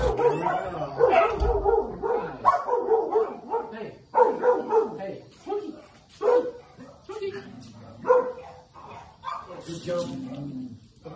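Dogs bark and yip in short, repeated bursts close by, mixed with whimpers and spoken words indoors at home.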